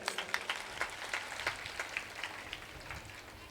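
Audience clapping at a Hindu religious katha on the Ram story: a faint, scattered patter of many hands applauding briefly, soft and distant, with no talk.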